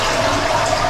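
Water runs steadily from a tap into a gray bathroom lavatory sink in a newly finished house, a close, continuous hiss and splash with no talking.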